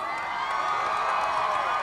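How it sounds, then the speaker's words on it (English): A live music-TV studio audience cheers and applauds continuously, a dense, steady wash of crowd noise with whoops and shouts close and loud throughout. "How about a round of applause for true love?"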